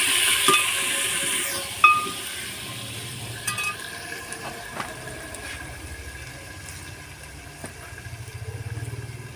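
Chopped onions frying in a pan in a home kitchen, a soft steady sizzle with occasional clinks and scrapes of a spoon stirring, fairly quiet and continuous.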